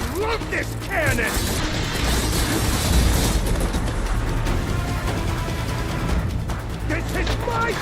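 Heavy cannon fire in Horizon Forbidden West, Burning Shores, with loud mechanical clanks, crashes and booms rolling steadily throughout, overlaid by combat effects and bits of voice.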